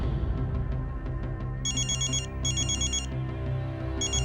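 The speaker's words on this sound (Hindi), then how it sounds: "12 बजे अंतरा के फोन पर रुद्र का कॉल आया" A mobile phone rings with a bright electronic ringtone for an incoming call, repeating in short bursts over a low bed of background music, fairly close and clear.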